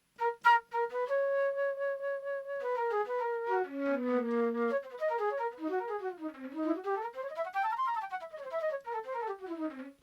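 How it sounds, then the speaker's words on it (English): A sweet, breathy flute-like keyboard tone plays a flowing melody of sustained and gliding notes, alone and clear. "This is the sound of the sweet flute."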